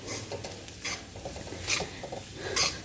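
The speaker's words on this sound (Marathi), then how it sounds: "आणि छान परतून घ्यायचं आहे" Purslane for zunka bhaji being sautéed and stirred in a pan, a soft sizzle under irregular scraping stirs and a couple of sharper clinks against the metal.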